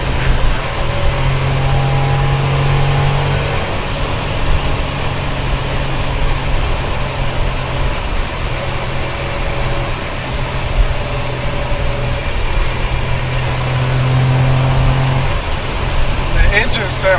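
A Honda Beat's small three-cylinder engine runs steadily at a near, even drone throughout, with a low hum holding constant, while someone talks over it.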